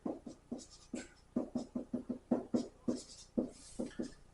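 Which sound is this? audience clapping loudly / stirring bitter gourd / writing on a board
writing on a board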